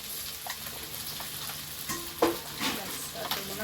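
Ginger garlic paste frying and being stirred in a pan for chicken biryani, a steady sizzle with a few scraping stirs of the spoon, close and moderately loud with no talking.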